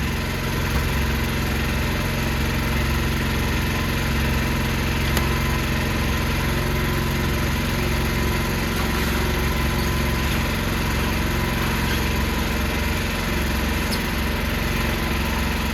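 A backup generator engine runs steadily at a constant idle-like drone with a low hum, loud and unbroken throughout, no speech present, before it is shut down.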